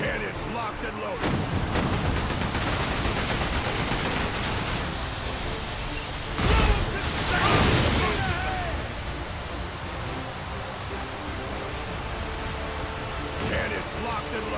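Ship cannons boom in the pirate video game Like A Dragon: Pirate Yakuza, a dense roaring barrage with a heavier blast midway, under steady wash and game noise while a voice talks over it.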